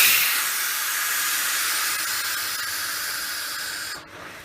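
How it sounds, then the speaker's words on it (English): A pool pump priming and forcing air out of a Pentair cartridge filter gives a loud, steady rushing hiss that holds evenly before suddenly dropping off near the end. "as the pump primes, we're going to push all that air"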